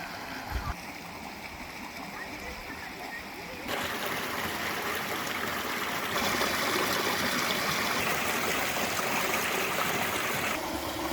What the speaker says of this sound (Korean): 울창한 내연산 계곡입니다.